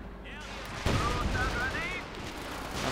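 Gunfire barrage in the video game Company of Heroes 2, a burst of booming shots and rattling fire at moderate distance, mixed under a caster's voice talking over the battle.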